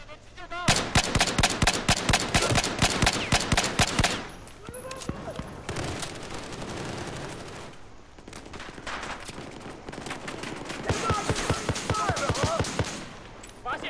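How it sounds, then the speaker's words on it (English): Dense gunfire in Battlefield 4: rapid bursts of automatic shots come in waves with heavier blasts mixed in, loud and nearly continuous, with a voice talking over parts of it. "Where are we getting shot at from?"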